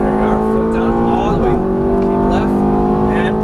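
A Ferrari F430 engine drones loudly and steadily on a race track, its pitch shifting as the throttle is squeezed, heard from inside the car while an instructor talks over it.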